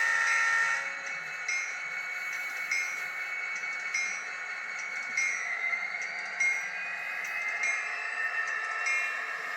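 Model railway locomotive sound module playing horn and bell tones, a steady high-pitched tonal buzz with repeated chiming accents, fairly close and moderately loud with no talking.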